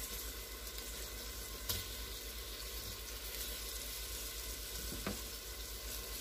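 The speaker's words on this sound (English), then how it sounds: "we're going to sear this" Meat sizzling as it sears in a hot pan for carne guisada, a steady crackling fry with a couple of sharp clanks of a utensil, fairly quiet and close with no talking.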